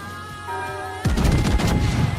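Naval gunfire aimed at a Liberty ship in the naval strategy game Daisen: a steady tonal hum gives way to a sudden loud broadband blast, then a rumbling, crackling decay that lasts about a second.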